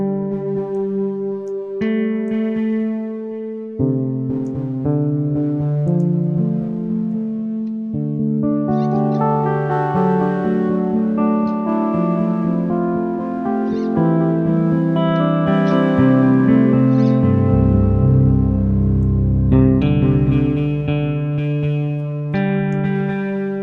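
A sustained synth drone is run through a chorus effect with power-curve distortion on the delay taps and reverb, its layered, shimmering tones holding loud and steady and swelling deeper near the end.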